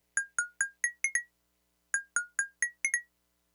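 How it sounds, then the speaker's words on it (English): Synthesized xylophone part: two quick runs of six bright, ringing mallet-like notes each, separated by a short pause, clear and alone. "And almost last but not least, we have some kind of xylophone."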